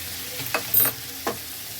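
Green chillies, sliced onions and capsicum frying in a pan, a soft sizzle with a few brief stirring scrapes and clinks, close by and without talk.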